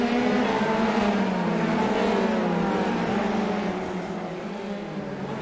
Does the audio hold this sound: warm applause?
no